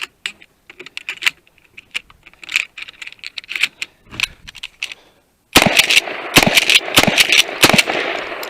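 A Mossberg 590 shotgun is fired in a rapid string of loud, sharp blasts, preceded by quieter clicks and handling sounds.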